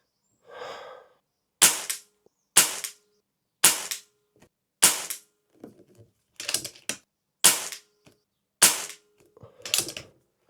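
A HFT500 air rifle is cocked with a mechanical clack and then fired in a series of sharp snapping shots, with brief rattles and breaths between them.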